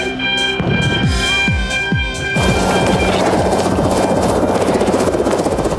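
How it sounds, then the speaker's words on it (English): A helicopter lifts off at dusk near a clifftop town, its rotor chopping in steady rhythmic pulses that swell sharply louder midway as the engine powers up, then a dense continuous roar with beating blades. "As the helicopter lifted up, we saw the lights of the town spread out below us."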